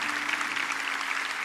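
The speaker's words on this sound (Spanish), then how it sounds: "Denle un fuerte aplauso al Rey" A church congregation at a sermon claps together in a loud, dense, continuous burst with no voices over it.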